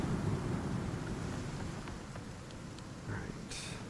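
Steady rain falls with a low rumble of thunder through a stormy outdoor scene in the survival game Icarus, a constant wash of noise with faint clicks and a brief brighter splash near the end.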